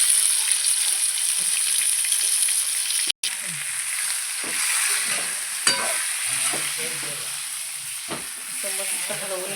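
Stuffed eggplants (bharli vangi) frying in oil are stirred in a pan, giving a steady sizzle with scraping and clattering spoon strokes throughout, one sharp clink midway.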